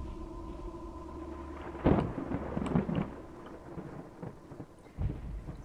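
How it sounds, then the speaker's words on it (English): Thunderstorm in Torii with steady rain hiss, then a close rumbling thunder burst, more crackling rolls, and another thunder hit near the end. "Yeah, okay, there's rain. It's just a thunderstorm."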